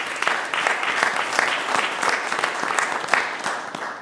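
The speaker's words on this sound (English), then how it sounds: "So let's give Ted a round of applause" Attendees at a transit agency board of directors meeting applaud in a short burst of dense, even clapping from a modest-sized room, lasting a few seconds with no voices.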